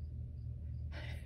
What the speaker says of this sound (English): I'm noticing that I hear a cricket in the background